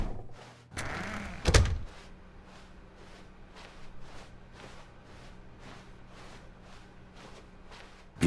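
A door swings open and bangs in a quiet office in The Stanley Parable, with a creaking whoosh followed by a heavy thud, then a run of soft, regular footsteps walking onward.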